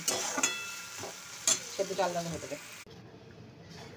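Cooked dal and spices being stirred in a pan, with a brief sizzle and scraping of a spoon, then quieter, close by, with someone speaking over it.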